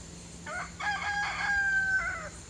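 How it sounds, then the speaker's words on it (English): A Brahma hen gives one drawn-out, wavering clucking call, close and fairly loud, against a quiet background. "Maybe one of the Brahmas is in there clucking around."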